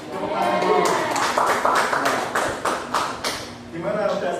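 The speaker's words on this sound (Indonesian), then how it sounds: "Tepuk tangan dulu." Third-grade schoolchildren in a classroom clap their hands together, a dense burst of rapid claps that eases off briefly before picking up again, with voices mixed in.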